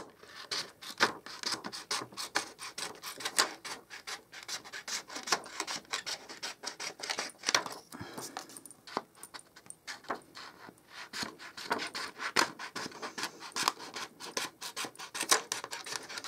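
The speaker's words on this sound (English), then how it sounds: "I'm just going to cut a few strips off and then cut them strips down" Scissors or a blade cut strips from acetate window sheets for a pop-up card, producing a long run of close, quiet snips and rubbing scrapes in an irregular rhythm.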